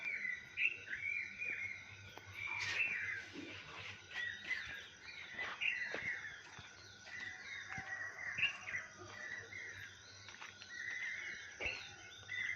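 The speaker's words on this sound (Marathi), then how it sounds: "कोकिळा कशी ओरडायला लागली येतोय का आवाज कोकिळाच आहे" An Asian koel calls in the morning among other birds, repeated rising notes sounding at moderate distance over a faint insect hum in a quiet village setting.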